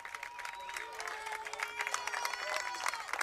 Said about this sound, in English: Big cheer for him.